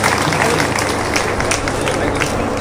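A crowd at a Haryana Uday community event in Bodia Kamalpur claps for honored children, a brief, dense wash of applause close by with some voices mixed in.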